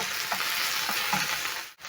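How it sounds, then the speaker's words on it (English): Steady, close sizzling and crackling of fish frying in a hot pan, continuous throughout with a brief dip near the end. "I'm going to be frying my fish for around 2 minutes on each side."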